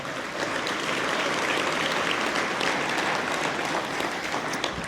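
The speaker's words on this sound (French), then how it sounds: "Applaudissons notre partenaire de la catégorie Argent." An audience at an agricultural hall of fame ceremony in Quebec applauds for a sponsor, a dense, steady wash of many hands clapping that holds loud and even for the whole stretch, with no voices above it.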